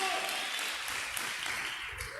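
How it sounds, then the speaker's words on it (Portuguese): Church congregation applauding during an online worship service, a steady dense clatter of many hands that holds at an even level throughout with no voice breaking through. "pode aplaudir se você recebe isso"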